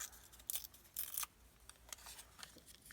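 Green paper is ripped by hand for a craft wallet, a few short, quiet tearing bursts close by with brief pauses between them.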